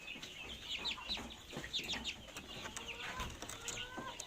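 Several parent-stock chickens cluck and chirp in quick, overlapping bursts, close by, with a busy farmyard feel and no talking.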